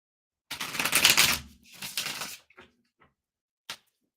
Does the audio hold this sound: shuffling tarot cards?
yes